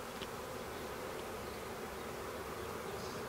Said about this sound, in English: Get off of me, bee.